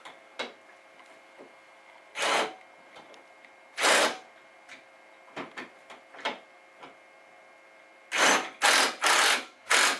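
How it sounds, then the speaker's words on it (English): A bolt on a power steering pump is tightened with a ratcheting tool in short mechanical bursts, single clicks between them and a quick run of rapid bursts at the end. "And then I tighten this bolt"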